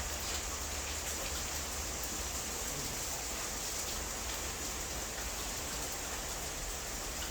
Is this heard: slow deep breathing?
no